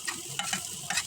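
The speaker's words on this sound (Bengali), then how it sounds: "পেঁয়াজ কুচিগুলি একখানা ভাজি ভাজি করে নিমু" Chopped onions frying in hot oil in a wok, a soft continuous sizzle broken by three brief stirring scrapes of a spatula, close and fairly quiet.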